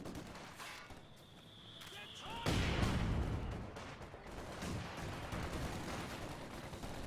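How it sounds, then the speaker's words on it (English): Soviet T-70 light tank firing during a Company of Heroes 2 match, a sharp boom at mid-clip followed by rumbling battle noise, fairly loud under a continuous wash of game ambience. "T-70 now firing in"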